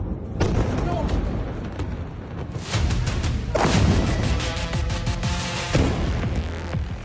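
Missile explosions in Israel: several heavy, broadband booms and rumbling blasts burst out at intervals beneath continuous talking, with a dense roar between the hits.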